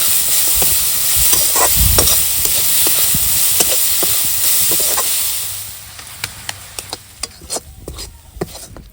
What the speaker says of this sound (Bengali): তো এবার নাড়িয়ে চাড়িয়ে একটা আঠালো ভাব তৈরি করে নেব।